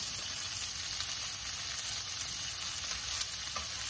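An ahi tuna steak sears in a very hot pan with butter and sesame seeds, giving a loud, dense, unbroken sizzle heard close up with no speech.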